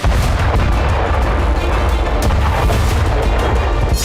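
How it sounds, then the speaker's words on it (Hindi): Loud, repeated blasts and booms overlap in a dense barrage of bombs exploding nearby in Gaza, dropped from helicopters, continuing without pause. "गाजा में इजराइल के हेलीकॉप्टर लगातार बम बरसा रहे हैं।"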